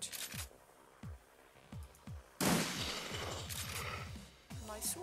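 Shots ring out in Shadowrun, a burst of rapid bursts and single cracks in quick succession, with a dense loud volley in the middle and sharper isolated pops around it, fairly close.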